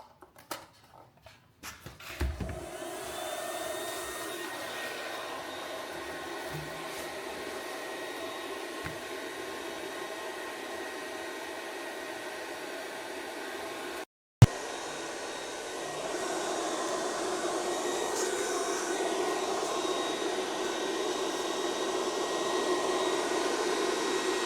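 A KKSevens magnetic induction heater works on a rusty nut on an old rake wheel, giving a constant airy hiss with a thin high whine. It stops briefly and then starts again, a little louder.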